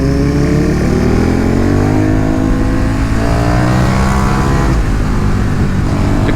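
A KTM 1290 Super Duke motorcycle engine, loud and close throughout while riding, with rising and falling revs as the engine climbs through the gears and drops off between pulls, under strong wind noise.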